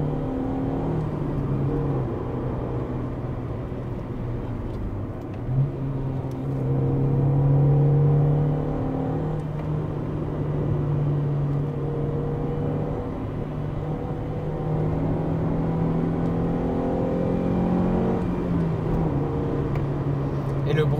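A 1991 Honda CRX VTEC EE8 engine drones and whirs steadily, its pitch climbing and dropping as it revs through gears, heard from inside the cabin.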